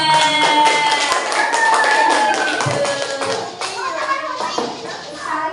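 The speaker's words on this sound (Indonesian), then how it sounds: "Beri tepuk tangan buat kelompok 3" Classroom of young children clapping together for a group's answer, a busy stretch of hand claps mixed with excited kids' voices and chatter filling the room.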